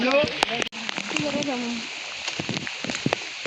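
Heavy monsoon rain falls steadily during a climb up Raigad fort, a dense close hiss under voices talking, with a few sharp knocks and rustles near the start.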